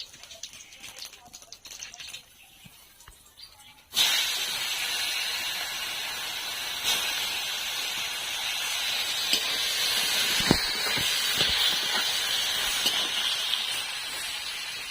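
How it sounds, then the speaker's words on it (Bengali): Paneer frying in hot oil in a kadai with salt and turmeric, a sudden loud hiss bursting in after a few seconds and holding as a steady, close sizzle to the end. "পনির ভাজবো, তাই আমি কড়াতে একটু লবণ দিয়ে দিচ্ছি আর একটু হলুদ।"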